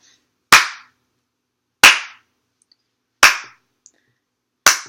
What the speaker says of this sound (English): I'm going to start off clapping the beat